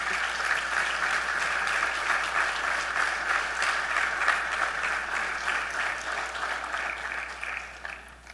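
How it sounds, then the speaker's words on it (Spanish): A church congregation applauds during a Sunday service, a sustained, even wash of clapping from many hands that holds steady and fades at the very end. "Denle un aplauso a Dios, aleluya"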